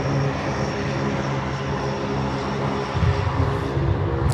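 A Saab 340 turboprop at Sydney Airport at night gives a steady, loud propeller and engine drone that swells slightly near the end, heard alone without talk.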